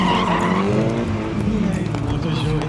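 A drift car skids around a large figure-eight track, its engine roaring and tires squealing loudly and continuously, with someone talking beneath the noise.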